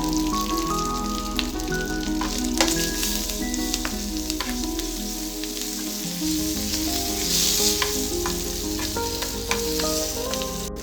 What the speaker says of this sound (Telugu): తాలింపులో కొద్దిగా పసుపు వేసుకోవాలి.